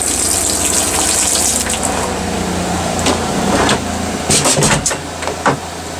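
Pink antifreeze gushing from a camper's indoor faucet, a loud, continuous, close rush of liquid broken by a few brief knocks and splashes.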